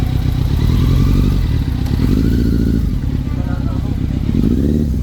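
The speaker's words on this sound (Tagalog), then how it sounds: "Palyado tapos namamatay." A Kawasaki Z900 inline engine idles roughly, misfiring in uneven stumbles and dips as it threatens to stall, loud and close throughout, with people talking over it.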